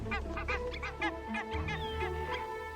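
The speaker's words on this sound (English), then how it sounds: "barnacle geese have arrived to breed" Barnacle geese at a spring breeding site in eastern Greenland give rapid, repeated nasal honks, several birds calling over one another at close range in a continuous chorus.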